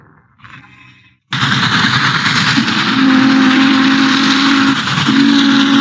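A loud toy steam train whistle blasts after a short quiet start, sustained over constant hissing steam and briefly cut off before sounding again.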